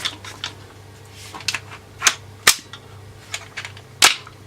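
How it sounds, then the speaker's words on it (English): An airsoft gun being handled and cocked, a series of sharp, close mechanical clicks and snaps at irregular intervals, the loudest near the middle and end, with no talking. "you pop it onto your gun, you then push your other bit forward, cock the gun, and you're ready to go"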